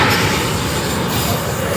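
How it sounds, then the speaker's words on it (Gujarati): A train rumbles past a closed railway level crossing, close and loud, with a steady dense roar of wheels and wagons throughout and no break. "ટ્રેન આવી ગઈ છે એટલે કઈ હભળાતું નહીં હોય તમને"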